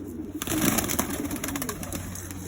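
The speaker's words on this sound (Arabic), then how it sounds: "هذا الحمام ما شاء الله." Iraqi red pigeons coo softly in a loft, a low, steady murmur of several birds close by with faint background hum.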